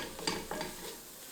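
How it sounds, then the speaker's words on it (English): A spoon scrapes and stirs tomato paste into onions in a pan, with a couple of sharp clinks against the pan over a soft background sizzle, fairly quiet and alone. "Get that all stirred in with the onions."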